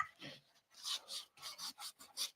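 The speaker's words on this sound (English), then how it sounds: "I'm kind of sanding off all the little warts from the milk paint that did not get mixed up with that frother." Dried milk paint is sanded off a thrifted box by hand, quiet close raspy scrubbing strokes in short bursts with brief pauses between.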